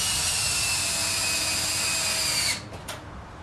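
Power drill whining steadily as it drives screws into the upper side metal skin inside a shelter building, loud and close, then stopping abruptly with a couple of short trailing bursts.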